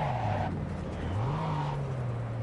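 A car driven in the video game Cyberpunk 2077: a loud, steady engine drone with the pitch dipping and then rising again as it accelerates, no talking.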